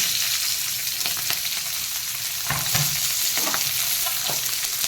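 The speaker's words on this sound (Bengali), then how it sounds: "এবার এই পেঁয়াজটা কাটিং করে কেটেছি পেঁয়াজটা একটু ফ্রাই করে" Cut onion fries over high flame in a pan, giving a continuous close sizzle with a few stirring and tossing knocks, and no voices.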